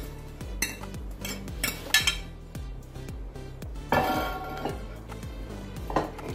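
Fried vegetables and raw mango tumble into a cooking pot of Sindhi kadhi, with a run of close metallic clinks and scrapes of a utensil against the pot, several sharper clatters standing out.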